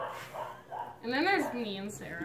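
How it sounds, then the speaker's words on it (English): A small dog lets out a short yip and whimpering bark in the background while a person talks over it, faint and brief against the voice. "That's my dog, by the way. He's a little woof woof."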